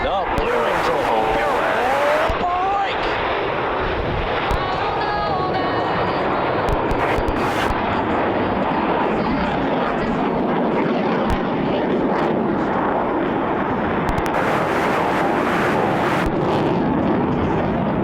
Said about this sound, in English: Each pilot will perform an individual brake turn and exit the flight line in a separate direction